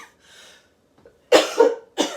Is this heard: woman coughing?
yes